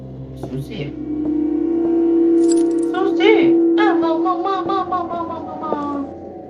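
Keys jingle and clink in the House of Slendrina horror video game on hard mode, a short metallic rattle over a low ambient drone while someone talks.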